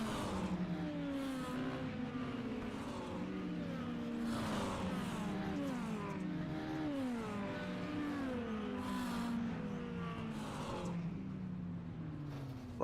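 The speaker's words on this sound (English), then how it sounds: "Last of the cars cross that start-finish line to end our first of two feature races." Dirt mini stock race cars in the iRacing sim cross the start-finish line under the checkered flag, engines droning and rising and falling in pitch as several cars pass one after another, steady and loud throughout.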